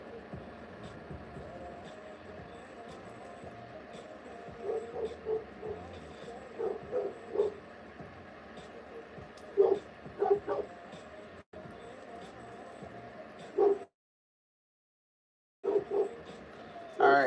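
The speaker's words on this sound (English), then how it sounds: "I hope you guys can hear me over the dogs barking." Several dogs bark in short, irregular bursts at moderate distance while a person talks over them indoors during a beading session; yips and single woofs come and go, with a brief dropout near the end.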